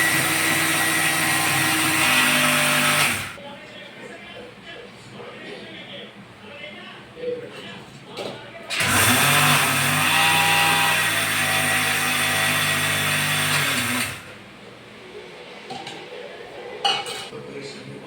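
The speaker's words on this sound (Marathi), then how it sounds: "इथे मिक्सरच्या भांड्यामध्ये मी आता दळून घेते" A mixer grinder pulverises 250 grams of mustard seed dal into fine powder for a raw mango pickle. It runs in two loud, steady whirring bursts of about three and five seconds, with quieter pauses between.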